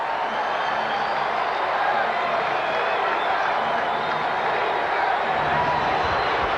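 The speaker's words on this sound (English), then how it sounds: "Much to the delight of the sellout crowd here at the Forum" A packed arena crowd at the Forum roars and applauds during a 1986 Lakers–Mavericks playoff game, with whoops and clapping rising out of a continuous wall of cheering that swells slightly near the end.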